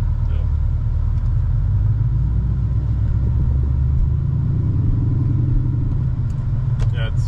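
Steady, deep exhaust drone from a modified 2008 Chevrolet Corvette while driving, a low continuous rumble heard from inside the cabin with a voice talking over it.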